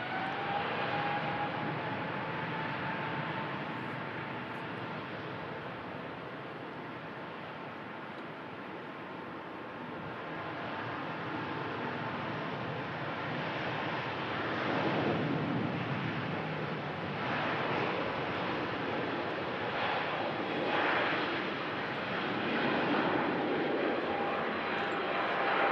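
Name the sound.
Airbus airliner taking off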